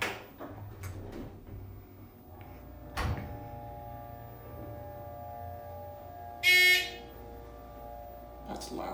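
ThyssenKrupp hydraulic elevator at a Best Western in Troutville, Virginia, with its doors working and the cab rising: a low steady hum, scattered clicks and knocks, and a brief bright chime tone near the end.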